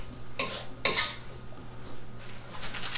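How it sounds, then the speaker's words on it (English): Ground beef picadillo seasoned with salt stirred in a pan, with two distinct scraping bursts of a utensil against the pan over a low steady sizzle, then softer stirring scrapes. "I'm gonna go ahead and give this a mix."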